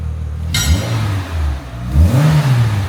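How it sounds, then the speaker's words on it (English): A Renault Clio Sport 182 with a newly fitted exhaust revs twice, each blip rising sharply and falling back to a steady idle, loud and close. "Yeah, rev, Connor."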